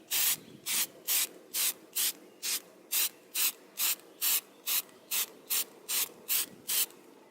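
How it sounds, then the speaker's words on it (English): A first coat from a Meguiar's headlight restoration kit goes onto a cleaned headlight in a steady, evenly spaced series of short, hissing strokes, close and with no voices. "I'm gonna apply my first coat"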